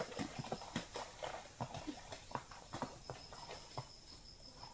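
Horse hooves clip-clop at a steady walking pace on a countryside road in the Philippines, close and fairly distinct, with irregular step rhythm over a light outdoor background.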